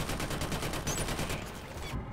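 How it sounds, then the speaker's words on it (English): Turret gunfire in Killzone Shadow Fall multiplayer on a forest map, a fast regular stream of shots in a steady machine-gun rhythm, fairly close and dense, with no talk. "God dang turret!"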